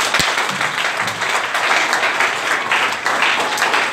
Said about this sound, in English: Clap unto the Lord.